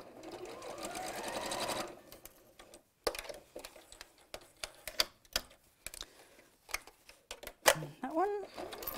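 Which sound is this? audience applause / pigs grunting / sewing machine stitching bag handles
sewing machine stitching bag handles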